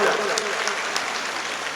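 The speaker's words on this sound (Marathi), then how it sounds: "सर्वांचं या दोन्ही नेत्यांचं टाळ्या वाजून आपण या ठिकाणी स्वागत करूया" A rally crowd at a booth workers' gathering claps steadily in welcome of two political leaders, a dense, continuous patter of applause filling the space for the whole stretch.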